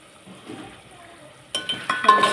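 Tomato curry being stirred in a pan, a spoon scraping and clinking against the metal with soft sizzling, quiet at first and then louder, close-up strokes in the final second.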